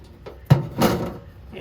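A storage compartment door on a Montana 3761FL fifth-wheel camper is refitted and shut, giving a few close hollow knocks and a firm thud followed by a short rattle, fairly loud with little talk.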